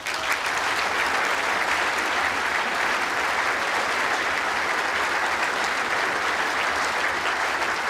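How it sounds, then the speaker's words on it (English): Audience applause at the World Indoor Bowls Championship final presentation, a loud, dense and unbroken wash of clapping from an indoor crowd, steady for several seconds with no voices over it. "Please keep that applause going"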